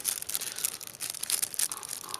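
A plastic package holding a Roxon KS S501U knife-and-scissors kit is torn open up close, with steady crinkling and ripping that rises in short bursts for about two seconds and no voices.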